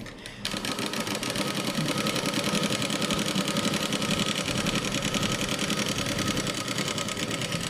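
A sewing machine runs steadily, stitching along a folded fabric edge during a tailoring lesson, its fast mechanical whir and rhythmic needle clatter continuous and close after a brief start.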